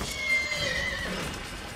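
A horse in the video game Assassin's Creed gives a short whinny over a steady, noisy game background.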